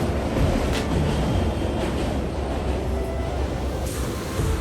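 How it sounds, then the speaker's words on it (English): A passenger train rumbles across the lower tier of a river bridge over the Ganga in Patna. The roar is dense and continuous, heard from nearby. "the bottom tier has a passenger train running on the railway tracks through the same"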